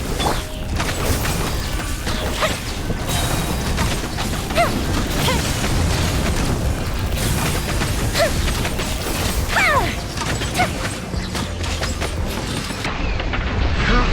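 Fireworks pyrotechnics attack in a video game, a dense crackling and popping barrage with scattered sharp bursts and mechanical clatter running continuously at a loud, steady level throughout.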